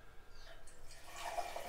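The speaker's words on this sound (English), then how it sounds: "pouring a nice beer" Homebrew beer poured from a charged cask into a pint glass, a soft steady liquid stream that grows fuller toward the end, close by with no talk.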